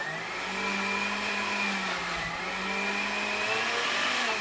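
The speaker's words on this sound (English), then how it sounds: "Natalie is currently making thick milkshakes and our blender is not dealing with that so well." A home blender labors through a thick homemade milkshake, its motor whining steadily at close range with a strained, slightly wavering pitch for several seconds, no talk over it.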